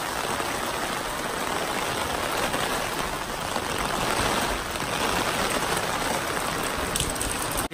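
Heavy rain pours during a morning commute in Japan, a dense, constant hiss of drops with no breaks and no voices.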